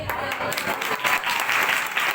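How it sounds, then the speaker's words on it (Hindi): Loud audience applause at a Hindi Christian church gathering, a dense, steady burst of many hands clapping close by, filling the whole moment without speech. "जोरदार तालियां"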